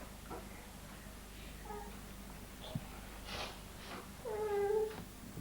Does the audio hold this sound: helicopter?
no